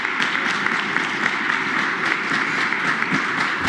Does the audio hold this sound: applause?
yes